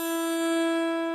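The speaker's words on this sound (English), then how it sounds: "string will get hung up on a callus and you'll get some really obnoxious sound like this" A sustained, buzzy metallic tone rings steadily for about a second, then cuts off abruptly, harsh and nasal as a guitar string snags on a fingertip callus.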